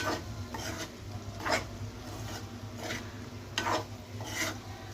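Chili powder being mixed into raw banana fry, with rhythmic raspy rubbing and stirring strokes of a spoon against the pan, close and fairly quiet, no talking.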